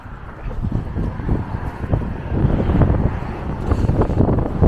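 Wind buffets a microphone outdoors in steady low rumbling gusts that swell and ease, with no voices over the noise.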